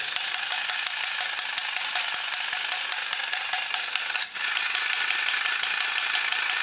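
A small electric motor in a 1980s toy robot whirs steadily with a fast, gritty gear rattle, close by, briefly dipping before carrying on.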